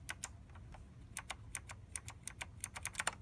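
Typing on a mechanical keyboard with tactile key switches produces irregular runs of sharp, fairly quiet clicky keystrokes that speed up toward the end, heard alone without speech.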